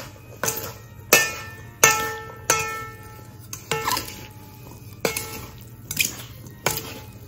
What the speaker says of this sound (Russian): Хорошенечко все перемешиваем.